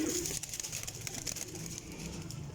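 Pigeons on a rooftop coo softly and steadily nearby, a low continuous murmur with light flutters and no talk.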